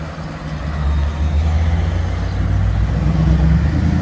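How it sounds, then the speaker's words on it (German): Classic Lamborghini at a classic car rally, a deep engine rumble that holds steady and grows slightly louder as it passes, heard close with no talk. "Das war der Lamborghini"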